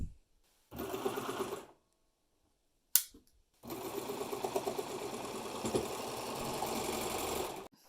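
A sewing machine stitches godets into a fabric top in two close, loud runs: a short burst, then a long steady stretch after a pause and a sharp click.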